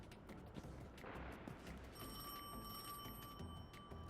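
A telephone rings with a steady, bright electronic tone during a Destiny: The Edge of Fate cutscene, starting partway through and sitting quietly under rumbling game noise and effects.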